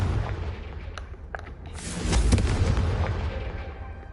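Confringo spell explosion in the Hogwarts Legacy video game, a cast followed by a booming, rumbling blast that swells and lingers with a crackling tail.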